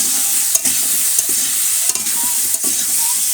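Potatoes with salt and turmeric fry loudly in a pan and are stirred, giving a steady, close sizzle broken by a few scraping stirs.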